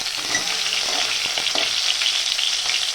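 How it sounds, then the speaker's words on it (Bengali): Bhola fish sizzling as it fries in oil in a pan for a fish curry, a steady close hiss of frying with faint clinks, continuous without talk. "শুরু হয়ে গেছে মাছ ভাজা।"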